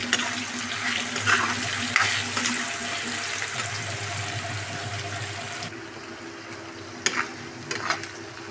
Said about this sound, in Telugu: ఇట్లా వేగాలండి. ఉల్లిపాయలు ఇట్లా నూనెలో వేగిపోవాలి.